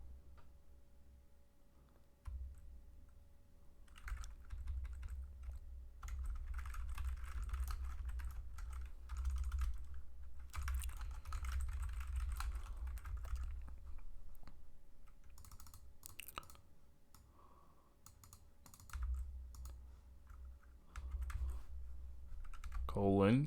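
Someone types on a computer keyboard while coding a game, producing long, faint stretches of quick key clicks with short pauses, while a voice talks at times.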